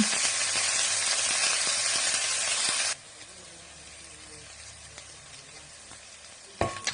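Onions frying in a pan on a cooker give a loud, dense sizzle for about three seconds, then drop to a quieter crackle and hiss with a few clinks near the end.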